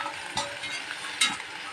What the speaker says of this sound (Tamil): நல்லா பச்சை வாசனை போகிற வரைக்கும் நம்ம நல்லா ஃப்ரை பண்ணி எடுத்துக்கலாங்க